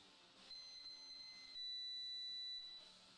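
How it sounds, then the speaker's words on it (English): A driveway alarm beeps in steady high electronic tones, a few short pulses followed by one longer sustained beep, faint against quiet background hiss. "That is my driveway alarm"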